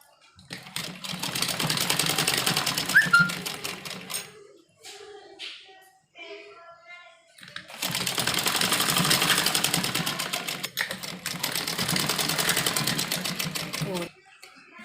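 Sewing machine stitching an umbrella frock seam, two long continuous runs of rapid, steady mechanical chatter separated by a brief pause, with someone talking quietly during the gap.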